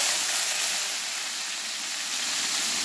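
Eggplant and pumpkin frying in hot ghee with mustard seeds and cumin, a steady loud hiss and sizzle filling the whole stretch without pause, with no talking.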